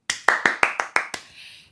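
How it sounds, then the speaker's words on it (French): Seven crisp, evenly spaced hand claps from a single person, close and dry, followed by a brief faint tail of room sound, with no talking. "Applaudissez-moi."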